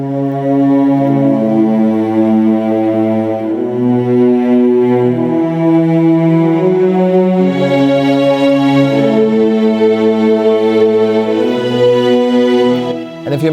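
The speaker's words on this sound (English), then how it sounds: "added some other strings, and they come from a plugin called Contact" Layered sustained orchestral strings from the Kontakt Symphobia sample library play slow chords that change every couple of seconds, rich and loud, with no voices.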